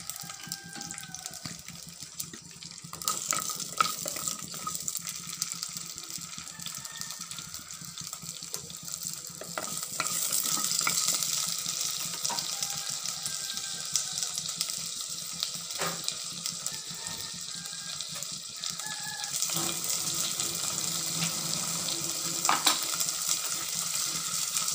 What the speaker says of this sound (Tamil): எண்ணெய் காஞ்சிடுச்சு, வெங்காயத்தை போட்டு லைட்டாக வதக்கிக்கலாம்